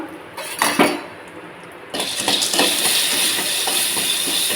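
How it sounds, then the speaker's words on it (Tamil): Field beans tip into hot oil in a kadai for a bitter gourd kara kuzhambu. A few clattering knocks come first, then a sudden loud, steady sizzle that continues to the end. "இப்போ வந்து வானலை எண்ணெய் சூடாயிடுச்சு இந்த மொச்சக்கொட்டையை சேர்த்துக்கலாம்"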